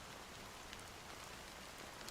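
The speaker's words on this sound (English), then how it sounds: "how long has this rain been going on for?" Steady rain pours in a scene from the video game Honkai: Star Rail, a dense, even hiss of drops on surfaces with no break or voices.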